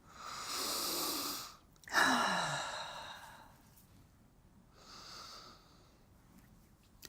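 Slow, deep breaths drawn in over Northern Lights Black Spruce essential oil: a long inhale and exhale, a sharp sniffing intake, then a softer breath, close and quiet, with no talking.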